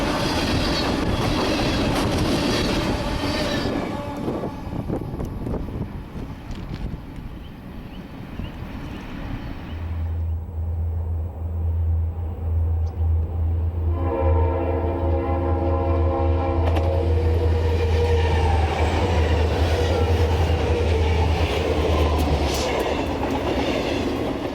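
A westbound Santa Fe train rolling past the 1945 Pinole depot, a loud steady rumble of wheels and cars close by, then a deep sustained horn blast and a chime-like tone that hold for several seconds before the rumble carries on.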